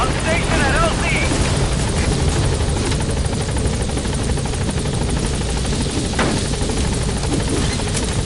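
A P-Quad helicopter from the video game Metal Gear Solid V arriving at a landing zone, its rotor and engine roar loud and steady throughout, with brief voice fragments underneath.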